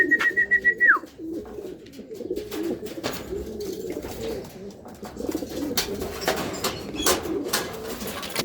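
Low racing pigeon coos repeat steadily throughout, close by, with scattered clicks and shuffling; a short whistle-like tone opens the clip.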